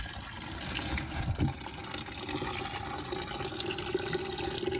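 Coolant pouring steadily from an off-road vehicle radiator into a bucket in a garage, a continuous close splashing gush with a brief louder surge early on.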